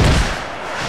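A heavy wrestling takedown slam at a SCAW indie show, one loud dull thud hitting the mat up close with booming crowd-hall noise ringing around it.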